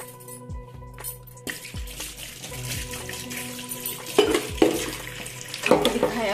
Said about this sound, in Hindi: सारी सब्जी मैं एक साथ वॉश करूंगी